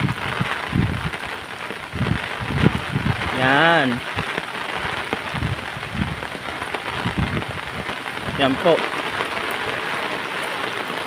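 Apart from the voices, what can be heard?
rain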